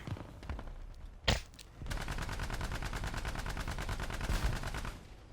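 A tank blows up in a War Thunder battle: a short sharp blast bursts out, then continuous rapid machine-gun fire rattles steadily for several seconds at moderate distance, with no voices over it.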